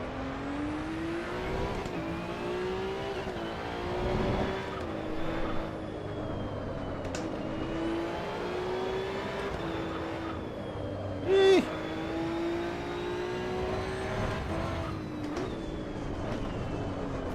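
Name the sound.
race car engine revving in Assetto Corsa EVO video game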